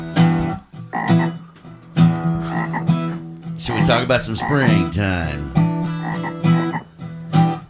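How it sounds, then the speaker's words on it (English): Frogs croak in a springtime chorus, loud and repeated throughout, with people talking over the calls. "Frogs getting with it."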